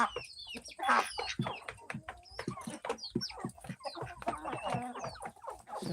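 Several chickens cluck busily and close by, with overlapping, rapid, irregular calls and some louder squawks throughout.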